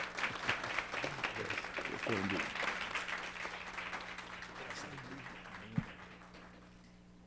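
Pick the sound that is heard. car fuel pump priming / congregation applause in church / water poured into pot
congregation applause in church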